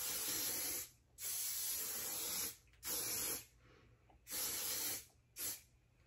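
Stardust hairspray hisses onto short pixie-cut hair in four close, loud bursts, the first two long and the last two shorter, with quiet pauses between them.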